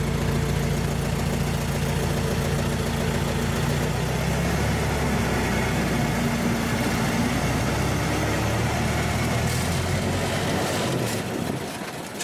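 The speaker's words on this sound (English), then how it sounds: "the engine revved quite a lot" A Ford Model T engine idles with a steady, loud mechanical churn, its pitch dropping as revs fall back before it settles.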